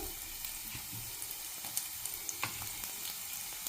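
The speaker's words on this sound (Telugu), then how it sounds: "ఆయిల్ హీట్ అయింది ఇందులోకి సన్నగా తరిగి పెట్టుకున్న వెల్లుల్లి వేసుకుందాము" Finely chopped garlic and onions fry in hot oil while cooking Manchurian, giving a steady sizzle with occasional sharp crackles and light scrapes.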